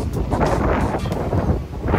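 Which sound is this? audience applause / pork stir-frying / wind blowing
wind blowing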